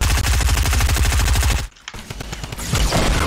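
Rapid automatic machine gun fire in Fortnite, a dense rattling burst of close, loud shots that cuts off abruptly, followed by scattered quieter shots and game sounds.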